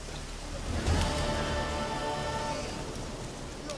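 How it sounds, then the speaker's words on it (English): Steady rain falls in The Witcher 3: Wild Hunt, a constant soft hiss with a faint low rumble near the start, no voices. "Looks like rain."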